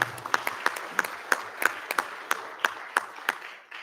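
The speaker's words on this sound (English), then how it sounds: "Another round of applause for Daniel." At a school board meeting, a small audience applauds a student. The sparse claps come as distinct, fairly regular sharp hits, moderately loud with a little background noise between them.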